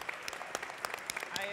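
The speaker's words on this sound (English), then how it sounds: "I'd like to give you a round of applause." Scattered applause from a conference plenary audience for the panelists, a patter of many hands clapping at a moderate distance with a voice briefly heard over it.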